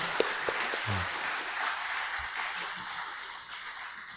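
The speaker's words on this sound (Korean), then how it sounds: "다시 한번 우리 한번 힘찬 격려의 박수 한번" A church congregation claps in encouragement for the piano trio after Sunday worship, a moderate, fairly even patter of many hands with a few sharper individual claps early on, fading slightly toward the end.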